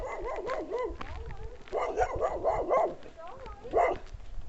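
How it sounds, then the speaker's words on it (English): A loose dog barks and yips repeatedly on a nature reserve footpath, loud and close in quick bursts with whimpering tones. "There's a dog on the loose."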